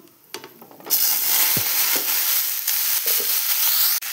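Chopped pumpkin and potato go into hot oil tempered with whole spices, setting off a loud, steady sizzle that persists as they are stirred, with faint utensil scrapes in the pan.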